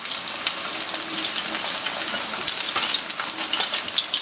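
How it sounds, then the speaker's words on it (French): An herb galette fries in a hot pan, giving a dense, crackling sizzle with scattered sharp pops, steady and close, with no one speaking. "Je la fais frire"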